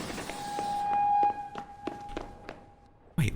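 Footsteps in a train-station observation video game thud one by one in an uneven rhythm, like someone chasing close behind, under a faint sustained tone that cuts off before a sudden burst at the end.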